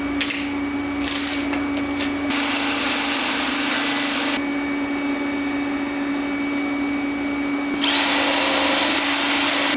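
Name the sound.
tack welding a part on an LS swapped Miata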